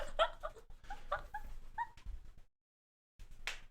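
A dog whimpers and yips up close in a series of short, high-pitched, squeaky whines, then falls silent briefly before a final sharper whine.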